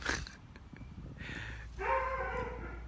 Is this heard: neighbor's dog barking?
yes